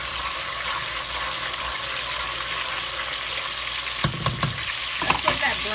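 Minced garlic frying in a pan gives a steady, close sizzle throughout, with a few clacking stirs of a utensil toward the end and no talking.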